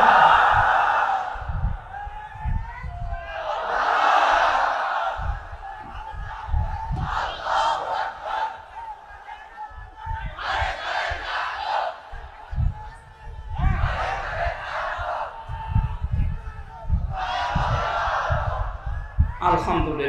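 A large crowd at an Islamic religious gathering shouts the takbir in unison, with roaring chants repeating about every three seconds, each answering a leader's call.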